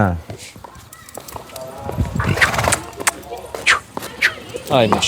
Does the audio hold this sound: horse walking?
yes